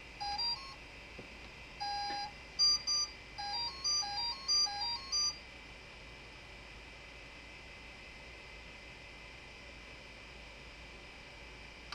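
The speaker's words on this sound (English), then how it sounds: "it made several beeping sounds" An electronic speed controller on a battery-powered model sounds a quick run of rising and repeated electronic beep tones right after its battery is connected, lasting about five seconds before only a steady hum remains.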